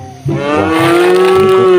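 A cow, one of the animals being rescued from a river, gives a single loud, drawn-out moo that starts abruptly and holds its pitch for over a second, close and clear with no talk.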